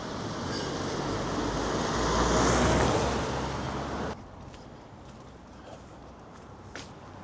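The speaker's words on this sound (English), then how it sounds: "before the traffic noise gets ridiculous" Road traffic in the town of Caergwrle, Wales, rumbles steadily nearby, with a louder swell of passing vehicles that then drops to a quieter background hum.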